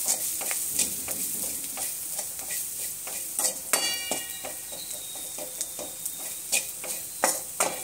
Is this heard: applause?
no